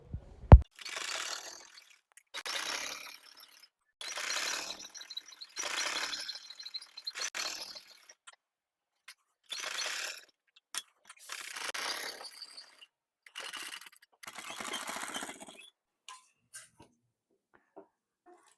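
Domestic sewing machine stitching a finishing strip of piping onto a lined kurti, running in about eight bursts of a few seconds each with short pauses between, close and fairly quiet with a mechanical whirring rattle.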